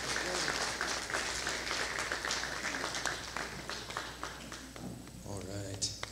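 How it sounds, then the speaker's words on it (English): Church congregation clapping for the children, a steady patter of many hands that fades toward the end as a voice begins talking, moderately quiet and roomy. "Give your kids a hand clap if you appreciate them this morning."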